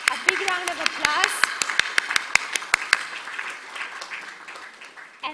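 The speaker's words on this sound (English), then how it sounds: "So let's give a big round of applause." Audience applause closing a high-level conference opening session, with sharp individual claps standing out early, then thinning out and fading toward the end; a few voices murmur beneath.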